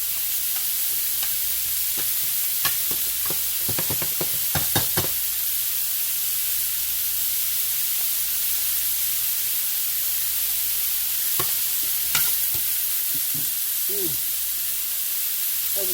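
Sliced onion and confetti-colored and green bell peppers fry in a pan with a steady, hissing sizzle, broken by occasional scrapes and clacks of stirring, close and without talk.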